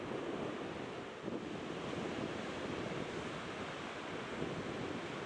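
Huge waves of the rough Atlantic Ocean crash against sand dunes in a continuous, loud roar of surf, with wind buffeting the microphone throughout.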